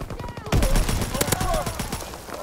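Rapid gunfire from Call of Duty WWII multiplayer, a burst of loud shots crackling close by, with players talking over the action.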